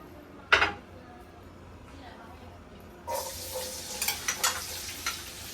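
Potatoes sautéing in a pan for fried rice: a sharp sizzle burst early, a quieter stretch, then louder sizzling with stirring clatter near the end.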